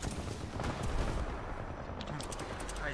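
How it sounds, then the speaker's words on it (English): Shotgun fire in the video game Titanfall, a dense run of booming blasts and broadband crackle that fills the clip, loud and close, with game noise layered over it. "Okay, I'm gonna use only shotguns."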